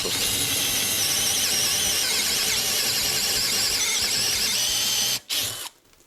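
A STARK CD 18-2 B Li-ion cordless drill driver whines loudly and continuously for about five seconds, straining under load while driving a screw at torque setting 18, then cuts out abruptly with a brief restart and stop.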